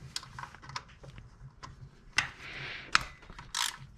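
Removing the idler pulley from the engine of a 1996-2004 Mustang GT: close, quiet ratchet clicks and metallic tool taps come in irregular bursts, with a few sharper knocks and some scraping, and no talking.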